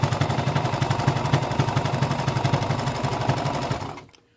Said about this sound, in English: The machine doesn't feel like it's pulling too much or tugging at me.